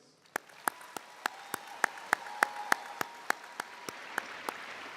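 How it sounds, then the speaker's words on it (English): Graduation ceremony audience at Fox High School, heard as a steady run of sharp, evenly spaced claps over a soft crowd hiss, moderately loud and lasting the whole stretch. "how about one more big round of applause for all our pending graduates?"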